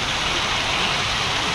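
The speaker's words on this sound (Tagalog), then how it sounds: "Grabe ang ulan talaga." Heavy rain pours down without letup, a loud dense hiss drumming on surfaces, close and steady throughout with no voices.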